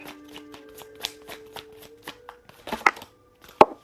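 Tarot cards being shuffled by hand, a close, quiet series of soft riffling flicks and taps ending in a couple of sharper snaps.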